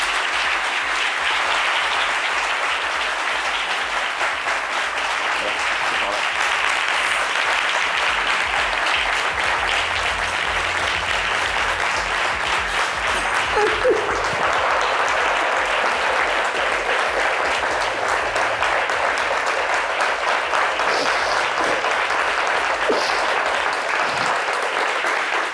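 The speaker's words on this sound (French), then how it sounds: "merci, chers amis, d'applaudir très fort notre convoqué du jour" A studio audience at a French-language midday TV show applauds loudly and steadily for a guest, a dense continuous wash of clapping that holds at even strength from start to finish with no voices over it.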